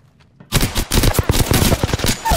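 Rapid automatic gunfire in the battle royale shooter Apex Legends, a loud close burst of sharp shots in quick rhythm that starts abruptly after a brief quiet moment.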